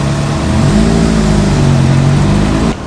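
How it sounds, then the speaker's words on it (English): Audi Quattro followed by a Mark II Vauxhall Astra GTE driving past at a classic car show, loud close engine roar rising and holding steady before cutting off abruptly. "Another cracking Quattro there, followed, hotly pursued by the Mark II Vauxhall Astra GTE"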